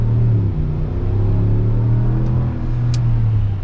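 A Ram 1500 Black Widow pickup truck accelerates with a steady, loud low engine drone and rising harmonic bands that climb in pitch as it gains speed, heard from inside the cab.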